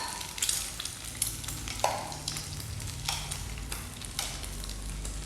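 Banana pieces with sugar being stirred in a frying pan, giving a soft steady sizzle broken by scattered scraping clicks of the spoon at an even, unhurried pace, close by and without voices.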